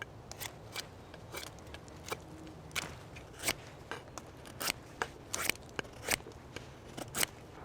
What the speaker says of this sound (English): I'm gonna start by shaving off all the bark though